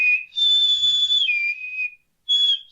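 A person whistles a loud, clear tune in imitation of a cereal commercial's whistle, with two long sustained notes that step down in pitch, a brief pause, then a shorter note, heard close and alone.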